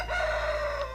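A rooster crows loudly and close, one sustained call over a busy bed of clucking hens, just after the flock of chickens is let out for the morning on a new farm.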